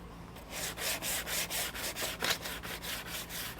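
220-grit sandpaper rubs along the edge of a Victory 4x4 Strike steel bumper for a 2010 Lexus LX, in about a dozen quick, even back-and-forth strokes, close and fairly quiet with no talk.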